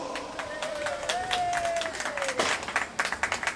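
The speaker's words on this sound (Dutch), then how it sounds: "Dames en heren, een applaus voor chef Honders." A small audience at a Dutch cabaret show in Maasbracht gives a modest round of applause, a steady patter of hand claps at moderate distance, with a sustained tone and some voices mixed in.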